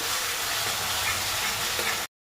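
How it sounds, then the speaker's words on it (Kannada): Ginger garlic paste frying in a pan, a continuous loud sizzle and hiss that stops abruptly. "ಶುಂಠಿ ಬೆಳ್ಳುಳ್ಳಿ ಪೇಸ್ಟ್ನ ಚೆನ್ನಾಗಿ ಬಾಡಿಸ್ಬೇಕು"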